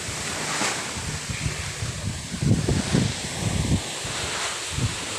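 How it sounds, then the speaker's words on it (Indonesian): Strong wind roars steadily in Lombok, a constant rushing blast with low buffeting gusts thumping against the microphone, no voices. "Angin kencang guys di Lombok."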